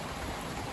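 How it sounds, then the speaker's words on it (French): A brief burst of heavy rain on a stormy February night, a dense, even hiss close by, with no one talking. "Encore des grosses pluies là"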